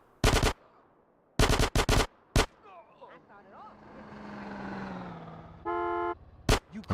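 Loud bursts of rapid automatic gunfire in a GTA video game, several short volleys separated by pauses, with a horn-like tone and faint game sounds in between.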